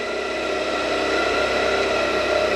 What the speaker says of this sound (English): Very smooth motor on these.